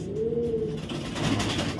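A large racer pigeon coos nearby, a low throaty rolling call heard once and clearly against a quiet background of faint room noise.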